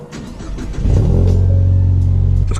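A Ford Mustang EcoBoost engine cranks and catches, then revs up into a loud, steady roar that holds until the end, after a low-side fuel injector pressure sensor install.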